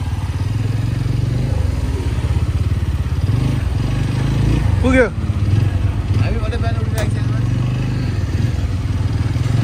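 A motorcycle engine idles steadily and rumbles low while the rider looks for a parking spot near a hillside temple, with people talking over it.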